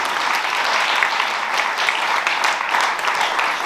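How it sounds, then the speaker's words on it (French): Dense, continuous applause from an audience celebrating the 50th anniversary of the Centre Placet, loud and even throughout with no voices over it. "Alors je pense qu'on peut applaudir le Placette."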